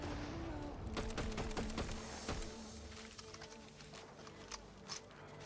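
Gunfire in Fortnite Zero Build: a quick cluster of sharp shots in the first few seconds, then sparser, fainter reports over a low game ambience.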